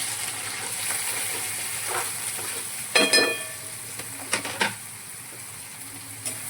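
Chopped onion is stirred in a frying pan, a soft steady sizzle running throughout with a few sharper scrapes and clinks of the spoon against the pan near the middle.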